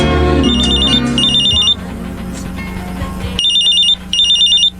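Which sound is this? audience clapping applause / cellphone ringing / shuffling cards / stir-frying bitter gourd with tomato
cellphone ringing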